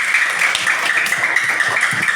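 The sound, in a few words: class applauding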